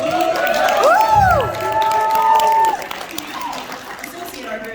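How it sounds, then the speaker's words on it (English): A convention panel audience at a Star Trek Online event cheers and applauds, a crowd roar swelling and then fading over a few seconds while a voice talks over it. "I'm going to need you guys to cheer a little louder for Thomas here."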